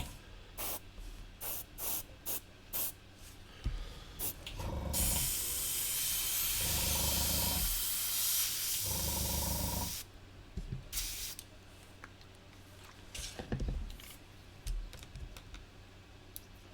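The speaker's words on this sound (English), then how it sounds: "because I can control the stream of the airbrush relatively well" An airbrush spraying paint gives long steady hissing bursts, one sustained for several seconds, mixed with brief sharp clicks and handling noises between sprays.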